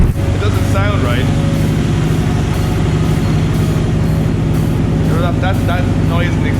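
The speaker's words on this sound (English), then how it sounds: "It's definitely idling all over the place." A drift car engine idles roughly with a boost pipe off, a loud, low, uneven rumble that runs continuously and close, with people talking over it.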